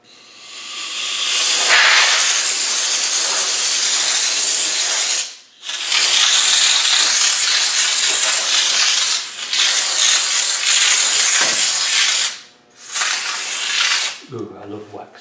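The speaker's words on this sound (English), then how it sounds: "now that's all cleaned up, just going to squirt a bit of black wax" Black wax aerosol is sprayed onto a rebuilt hub and disc of a White 90 300Tdi, making a loud, close, continuous hiss in three long bursts with brief pauses between them.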